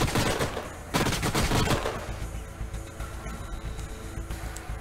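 Turret gunfire in the strategy game Planetfall, rapid bursts of automatic shots in two clustered volleys near the start, then trailing into a quieter rumble of distant battle noise.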